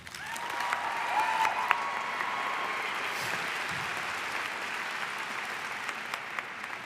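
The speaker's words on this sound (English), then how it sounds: "Can we give a round of applause, please?" Audience at a high school graduation ceremony in a large arena applauding, a dense sustained wash of many hands clapping that stays even throughout with faint crowd noise beneath.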